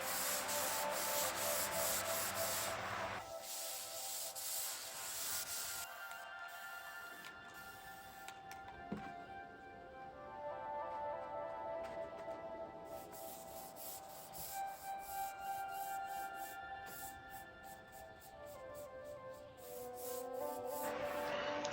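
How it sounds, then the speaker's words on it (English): A 320-grit sanding sponge rubbed over a shellac finish on a wooden bench gives steady close scratchy back-and-forth strokes, continuous with brief pauses, no talk. "going over the shellac finish with a 320 sandpaper, sanding sponge"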